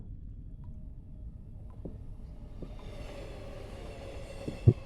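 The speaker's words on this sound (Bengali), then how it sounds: "না, ট্রেনের আওয়াজ হচ্ছে মনে হয়।" Train rumble in the horror game Only You Are Here: a low, steady, muffled rolling drone with faint rhythmic knocks and a thin metallic hiss growing in the second half, ending in a sharp clunk.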